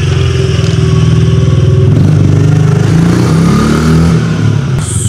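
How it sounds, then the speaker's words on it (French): A supermoto motorcycle engine revs loudly and close, holding a steady throbbing drone that climbs and falls through several throttle blips, with clattering mechanical noise mixed in. "Ah, ça, c'est des super motos"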